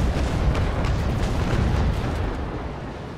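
A loud, rolling broadside of ship's cannons booms in a naval battle in the game Naval Action. Overlapping deep blasts fill the whole clip and then slowly fade.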